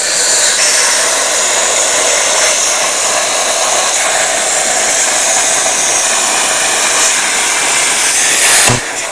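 An air-driven plasma cutter runs at about 70 psi, giving a loud, steady broadband hiss for a full cut before a short burst at the end.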